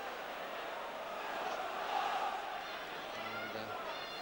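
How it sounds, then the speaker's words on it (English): Football crowd at the Victoria Ground, Stoke, during a Stoke City league match: a steady roar of many voices fills the stadium, swelling briefly into louder cheering midway before settling back to a continuous murmur. "good to see a good crowd here at the Victoria Ground"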